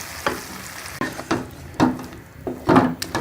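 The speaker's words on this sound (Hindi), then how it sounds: "ये हम इसको अच्छी तरह घी ऊपर आने तक भून लेंगे।" Rabri halwa roasts in ghee in a pan as a spoon stirs it in four or five distinct scraping strokes over a low, steady sizzle, close up with no talking.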